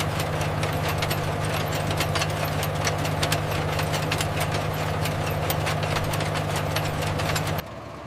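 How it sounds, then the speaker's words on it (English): The engine of a tobacco seedling planting machine runs in a flat North Carolina field in springtime, a steady, loud mechanical drone with rapid clattering that continues throughout, then drops abruptly at the very end. "A machine automatically plants the seedlings into the soil"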